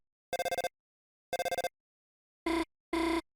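Alarm clock in the Deltarune video game beeping in two clipped bursts of rapid pulses, followed by two longer, lower tones, clean and isolated against silence.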